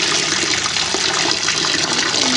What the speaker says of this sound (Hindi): अब इसे अच्छे से वॉश करेंगे ताकि सिरका वगैरह ब्लड वगैरह रिमूव हो जाए।